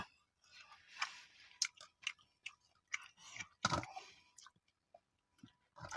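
Someone eats food while sitting in a parked car at the roadside. Quiet close-up chewing and crunchy bites come in irregular soft clicks over a near-silent background.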